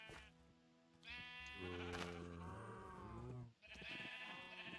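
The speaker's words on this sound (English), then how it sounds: "We're gonna have a lot of red sheep." Sheep bleating in a video game, several long wavering calls overlapping one after another, loud and close, with brief gaps between them and no talking.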